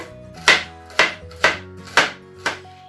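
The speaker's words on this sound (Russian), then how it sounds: "И теперь измельчаю перчик. Нарезаю его на малюсенькие кусочки." Knife chopping chili pepper into tiny pieces on a cutting board, five crisp, evenly spaced chops about half a second apart, close and clear with no talk.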